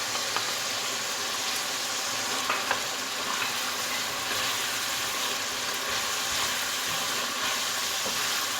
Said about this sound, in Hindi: ये देखिए कीमा जो है ये भून गया। अब इसमें मैं ये सारे मसाले डालूंगी।